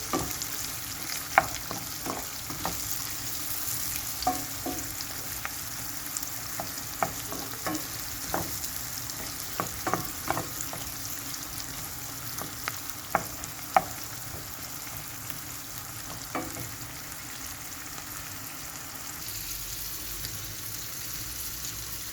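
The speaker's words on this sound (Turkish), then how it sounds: "Biraz kavrulsun sarımsağını öyle ilave edeceğim." Garlic cloves frying in a pan, a continuous broad sizzle under irregular scraping and knocking of stirring, with steady medium loudness and a slight change in tone near the end.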